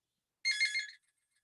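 A phone gives one short, bright electronic ring lasting about half a second against silence, close and fairly loud.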